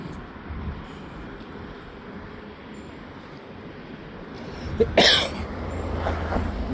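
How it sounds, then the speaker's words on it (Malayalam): A single sharp cough bursts out near the end during a morning walk outdoors, standing above a steady hum of distant traffic and ambient noise. "ചെറിയ ചുമയൊക്കെ ഉണ്ട്"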